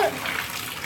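Cold running water rinsing tea-stained fabric, a brief steady gush of tap water splashing over cloth, close and fairly loud.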